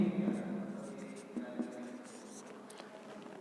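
Chalk or marker scratching and tapping on a board during a maths lesson, faint strokes and clicks beneath a teacher's steady spoken explanation.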